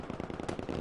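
Rapid gunfire crackles in a competitive squad-based video game match, with quick bursts stacking into a dense, steady barrage at moderate loudness and no voices.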